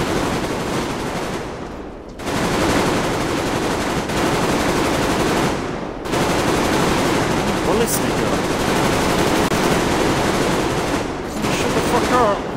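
Sustained automatic gunfire in Metro Exodus, long dense machine-gun bursts with short gaps between them, loud and close, with someone talking over it at times.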